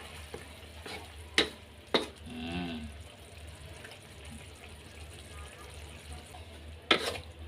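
Cooked mussels being stir-fried in a pan: faint sizzling with a few sharp clacks and scrapes of a utensil, and a brief voice in the background.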